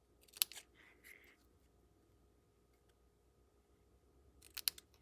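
Paper being cut with scissors, a few sharp snips near the start and again at the end, fairly quiet and close, with a soft background hum between the cuts.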